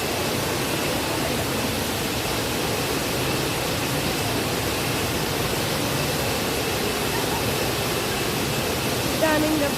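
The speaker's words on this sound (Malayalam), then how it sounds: "ഇതാണ് വാട്ടർഫാൾ." A waterfall in Coorg roars as a steady, dense broadband rush that holds an even level from start to finish, with no clear voice audible over it.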